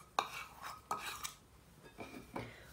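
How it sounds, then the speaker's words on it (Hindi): Spoon stirring potato hash brown ingredients in a bowl, a few faint clinks and scrapes at close range with quiet pauses between them and no talking. "और इसे अच्छे से मिक्स कर लेंगे।"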